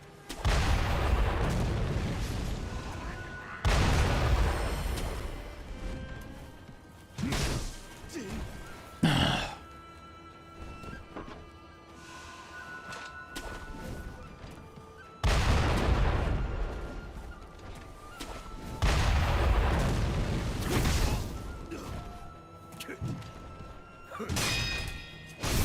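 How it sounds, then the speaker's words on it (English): Heavy cannon blasts and crashing impacts in the Sekiro video game, several loud booming bursts separated by quieter stretches of clatter and game noise. "Behold the cannon. Why does it do so much damage?"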